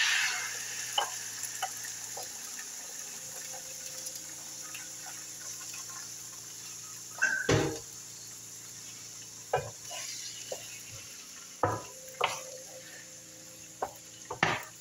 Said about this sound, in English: I'm going to put the egg in.